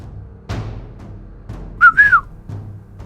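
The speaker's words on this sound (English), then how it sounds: "I whistle to him until his eyes meet mine." A person whistles a short two-note call, clear and close, between soft rustling movements.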